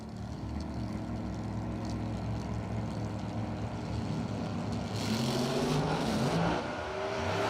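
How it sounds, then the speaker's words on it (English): A nitrous oxide injected radial drag racing car at a drag strip gives a loud, steady engine roar that surges with rising pitch toward the end of the launch, heard from a distance without talk. "the nitrous oxide injected machine over left lane staging up"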